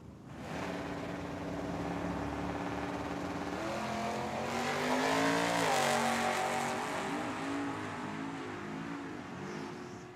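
A C10 pickup truck and a car drag race down the strip at Tucson Dragway, engines climbing through loud rising revs with gear-change breaks, the howl swelling as they pass and fading toward the end.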